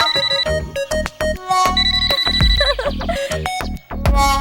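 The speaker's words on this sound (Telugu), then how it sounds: "నాకు ఫోన్ వచ్చింది" A loud electronic phone ringtone plays a bright, rhythmic melody of short beeping notes, close and continuous with no talking.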